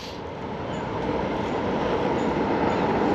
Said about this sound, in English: Train of some kind going past.